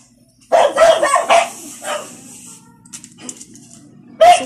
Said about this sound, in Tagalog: Sobrang ingay ng aso namin guys